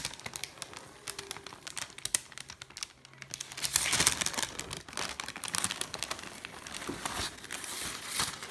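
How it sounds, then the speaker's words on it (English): Greaseproof paper peeled off rolled-out peppermint cream gives soft, close crinkling and tearing rustles in irregular bursts, quiet throughout with no talking. "Peel off the paper."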